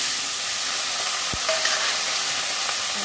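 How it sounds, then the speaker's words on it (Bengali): Brinjal pieces sizzle steadily in a frying pan, a continuous close hiss of oil with a brief knock of utensil or pan partway through. "এবার আমি বেগুনগুলো ভেজে নেব।"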